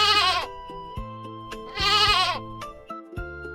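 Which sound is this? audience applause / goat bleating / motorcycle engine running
goat bleating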